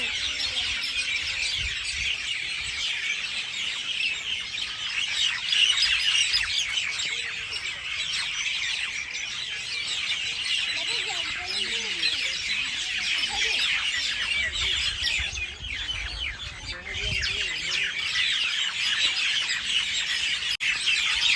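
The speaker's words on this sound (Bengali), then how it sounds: "আর দেখো গাছের মধ্যে কত পাখি ভর্তি, কিচির মিচির করতেছে।" A dense chorus of many birds chirps and chatters continuously in trees at a resort in Nagaon, Assam, a steady wash of overlapping calls with a faint low rumble beneath.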